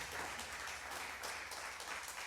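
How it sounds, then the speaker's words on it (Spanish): A church congregation applauds during an afternoon sermon, a soft, steady wash of many hands clapping that sounds distant and fairly faint. "Dale un aplauso al Señor si Dios te está hablando en esta tarde."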